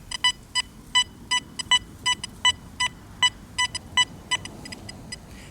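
Garrett and Nokta metal detectors sound target tones during an iron-unmasking test, with sharp electronic beeps repeating in an uneven rapid series of about twenty bursts over quiet ground noise.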